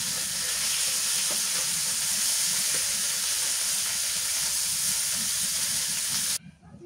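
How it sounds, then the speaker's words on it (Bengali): Fish frying in a pan of oil, a loud, dense sizzle with crackling pops close by that holds steady and then cuts off abruptly near the end. "মাছ ভাজি করে নিলাম"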